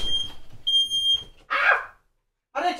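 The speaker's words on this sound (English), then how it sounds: "One of my smoke alarms are going off." A household smoke alarm going off indoors in a burning house: loud, shrill, close electronic beeps in short bursts with gaps between them, over faint background noise.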